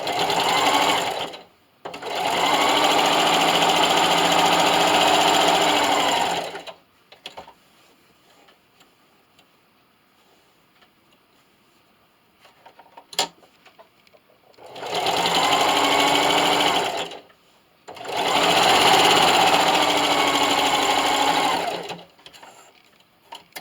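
A sewing machine stitches a diagonal line across a hot jar canning mitt, running in loud, close bursts of several seconds each, with a quiet pause and a single click between the runs.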